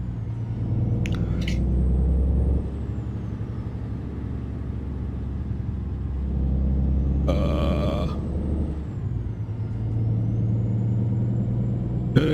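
A Freightliner C120 Century or Columbia truck drives with a simulated interior engine sound: a low, steady diesel rumble that swells and eases with throttle, a brief air-brake hiss and occasional clicks inside the cab.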